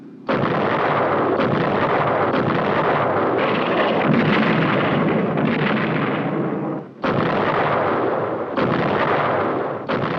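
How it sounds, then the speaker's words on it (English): Heavy U.S. Navy guns boom from ships in a rapid, continuous naval gunfire support barrage, loud and close, with a brief pause near the end before firing resumes. "This is Naval Gunfire Support, a mobile source of big gun reinforcement for friendly troops ashore"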